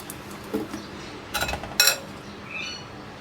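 Lid being put on a jar of homemade pickle topped with oil, a few light glassy clinks and a sharper clack of the lid seating, close by in a quiet room.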